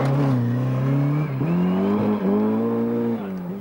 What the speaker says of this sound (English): this is a pretty straightforward spin. Just a gentle slide backwards into the slip road.